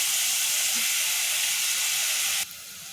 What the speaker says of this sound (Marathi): गोल्डन कलर येईपर्यंत आपण त्याला परतून घेऊया.